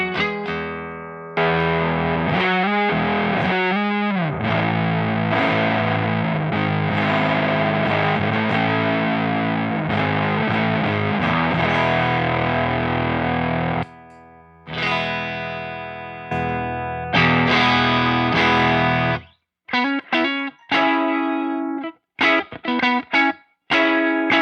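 An electric guitar plays through a Ceriatone Big J JP100 amp with a Big Muff fuzz pedal, thick, heavily distorted sustained chords and riffs heard up close, broken by short stops and choppy staccato hits toward the end.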